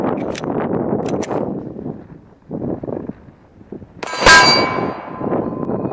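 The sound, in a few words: 45 ACP Glock 21 shot hitting a CrossFit steel plate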